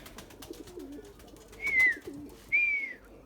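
Young Erzurum white pigeons coo in two clear, rising-falling calls close by, each about half a second long, over a low background murmur.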